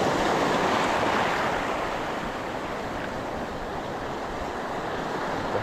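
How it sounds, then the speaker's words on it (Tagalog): Heavy surf roars continuously at Puerto Princesa, Palawan, Philippines, a broad rushing wash of large breaking waves with wind buffeting the microphone throughout. "Malaki pa rin talaga ang alon mo ito."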